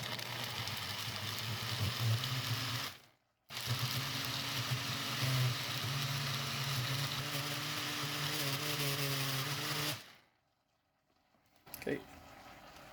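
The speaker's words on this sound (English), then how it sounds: "Okay, it's ready to blend." A blender runs loudly with a steady whirring motor and a muffled, covered tone, blending curry ingredients, stopping briefly, then resuming before cutting off near the end.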